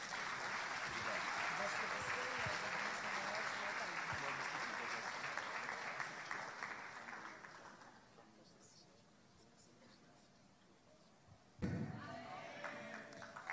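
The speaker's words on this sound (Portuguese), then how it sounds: "Aplauda o Senhor Jesus" A church congregation claps loudly and steadily for several seconds. The applause fades into quieter room sound with a few thumps, then a sharp burst of noise comes near the end.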